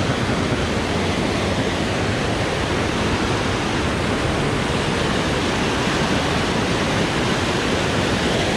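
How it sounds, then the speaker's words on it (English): Steady broadband rush of a stream of water flowing nearby, continuous and loud throughout with no talk, like water pouring down through a channel. "So I imagine fish come down through these streams."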